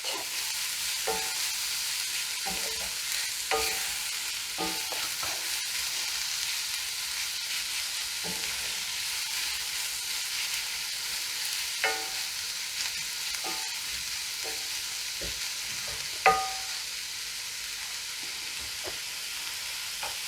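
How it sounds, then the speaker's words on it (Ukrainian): Vegetables sauté gently in a frying pan, a continuous even sizzle with periodic soft scrapes and taps of a spatula being stirred, close and without speech. "Сильно зажарювати не треба так, злегка спасирувати і досить."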